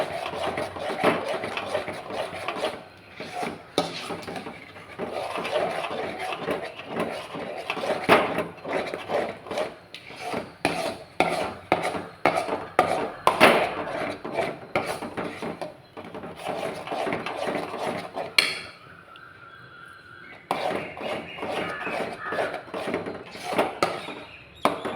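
Sweet puttu with chunks of jaggery is stirred continuously in a pan, giving a steady run of close scraping and rubbing strokes with a short quieter pause near the end.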